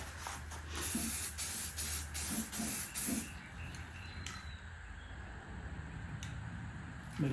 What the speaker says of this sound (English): I like to spray quite a ways away from my work.